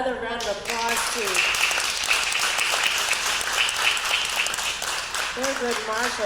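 Applause rolls through the audience at the 68th anniversary Thurgood Marshall luncheon, a steady, dense clatter of clapping framed by a speaking voice at the start and again as it dies down.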